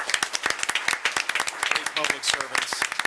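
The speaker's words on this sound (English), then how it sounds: "can I just ask for another round of applause for these great" A town board meeting audience claps for public servants, sharp separate hand claps from a modest crowd in an indoor room, loud and close, with voices talking underneath.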